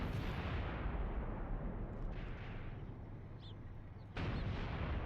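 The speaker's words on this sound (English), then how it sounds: "we have been getting peppered with artillery, and particularly with anti-tank guided missile fire" Artillery fire rumbling in an Iran-Iraq war video game, a continuous low, dense barrage of distant booms with a sharp new blast near the end.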